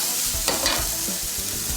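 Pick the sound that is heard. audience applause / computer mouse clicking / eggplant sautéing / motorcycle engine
eggplant sautéing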